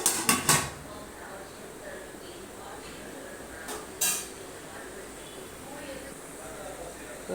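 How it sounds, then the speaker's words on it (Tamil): A plate is set as a lid over a pan of onions, tomatoes and green chilies sautéing for chicken biryani, giving a cluster of sharp ceramic-on-metal clinks, then a second clink a few seconds later over quiet room tone. "பிளேட் போட்டு க்ளோஸ் பண்ணிடலாம்"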